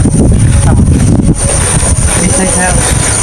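Strong wind buffeting the microphone outdoors, a loud continuous low rumble with gusty fluctuations throughout, no voices standing out.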